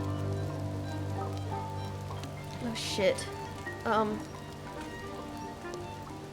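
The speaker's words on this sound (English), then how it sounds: "it's raining" Steady rain falling in the game The Midnight Walk, a soft continuous hiss with a low hum underneath, and a man briefly exclaiming over it midway.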